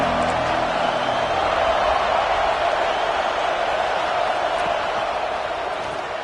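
Stadium crowd roaring in the College Football 26 video game at a Clemson versus Penn State matchup, a steady, dense wash of crowd noise that holds evenly throughout without any talk over it.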